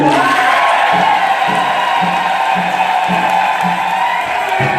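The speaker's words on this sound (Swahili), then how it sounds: "Tumpigie tena makofi." A church congregation at a priestly ordination celebration bursts into sustained applause and cheering that fills the hall, continuous and loud throughout.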